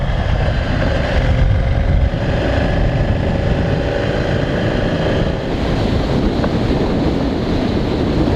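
Heavy wind buffets the microphone while riding a 2017 Ducati Scrambler Cafe Racer at speed, a loud, constant roaring rush with the motorcycle's engine drone faint beneath it.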